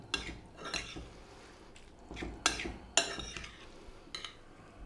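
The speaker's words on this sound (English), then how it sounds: "Right, little mix and we're done." A spoon stirring a bean salad with chili and mustard in a bowl, giving soft scraping strokes and a few sharper clinks against the side, quiet and close with no talk.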